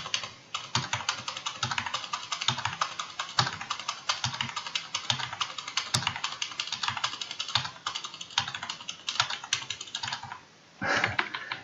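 Steady clattering of a computer keyboard while entering values in Revit software, with quick irregular keystrokes throughout and a brief pause near the end before typing resumes.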